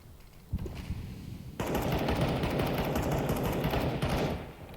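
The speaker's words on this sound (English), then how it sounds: "Gunfire rings out." Sustained automatic gunfire in a Counter-Strike match on Dust2, rapid bursts of shots starting with a few isolated cracks then erupting into a dense, continuous volley that stays loud for several seconds before easing.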